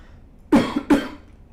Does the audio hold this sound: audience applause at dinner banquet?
no